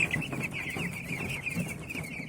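Week-old broiler chicks chirping steadily in a close, continuous chorus of high peeping calls, with clucking undertones and no talk.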